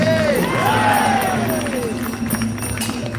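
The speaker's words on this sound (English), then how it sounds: "let's hear a big round of applause for His Divine Grace A.C. Bhakti Swami Srila Prabhupada" At an outdoor Rath Yatra festival in Dublin, a crowd cheers and applauds loudly, with rising whoops and shouts over a mass of clapping and crowd noise.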